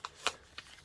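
Paper is folded and creased for a simple paper airplane, giving a few soft, quick crinkling rustles close by and quiet.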